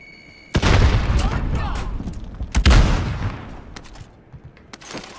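In a Warzone Plunder match, a grenade goes off with a loud, close blast, followed by a second burst a moment later and scattered gunfire trailing off, with a voice talking over parts of it.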